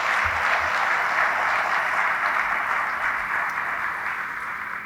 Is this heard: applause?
yes